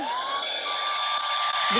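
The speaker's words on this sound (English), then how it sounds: "hit this with the blow dryer real quick" A handheld blow dryer runs steadily on a craft project on a crafting table, a continuous close whine with a high tonal hum that holds the whole time and carries no talk.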